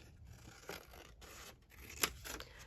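Scissors cut paper from a ledger in a quiet room, a few soft close snips and rustles with one crisp snip standing out, and no talking.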